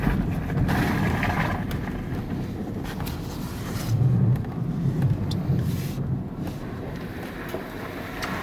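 Car creeping slowly down a snowy hill and turning gently into a driveway, a low muffled rumble of engine and tyres on snow with faint wind buffeting, no voices.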